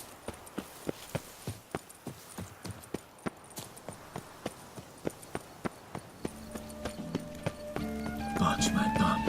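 Roach the horse's hooves clip-clop in a steady, evenly spaced rhythm in The Witcher 3: Wild Hunt, close and crisp. Music and other sounds swell beneath the hoofbeats toward the end.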